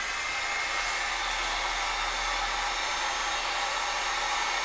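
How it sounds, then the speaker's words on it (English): A cheap two-speed heat gun running on low to warm hot glue: a steady, even blowing roar close by, unbroken from start to finish. "I bought myself a very cheap, it's 2-speed heat gun, and if you just put it on low speed"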